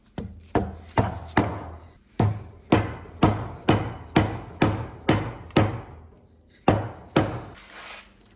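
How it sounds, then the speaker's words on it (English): Chisel struck repeatedly with a mallet to pare back wood moulding at a joint, a dozen or so sharp, close knocks in a fairly even rhythm with brief pauses. "Just chisel that back."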